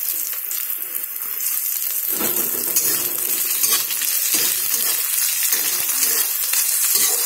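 Ginger and chopped green chilli frying in a pan for an egg chop snack, giving a steady bright sizzle throughout with occasional stirring bursts, close and fairly loud with no talk.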